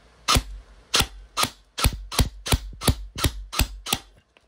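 A gun fires about ten sharp, loud shots in a quick, fairly even rhythm, each a crisp bang with a short tail, close by and with no talking.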